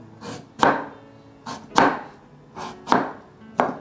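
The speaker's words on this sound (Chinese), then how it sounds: "把地瓜切片" A knife slices peeled sweet potato on a cutting board with about seven firm, close chops in a steady rhythm, each a sharp thud followed by a brief ring-off, with no talking.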